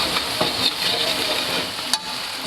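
Beef pieces sizzling and frying in a hot pan while being stirred and turned, a steady close hiss with a few scraping knocks, no voices.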